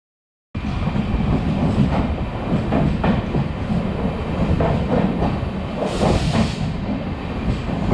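A train pulls into Ottapalam station in Kerala: a steady loud rumble with rhythmic wheel clatter over the rails, continuing throughout after a brief silent start.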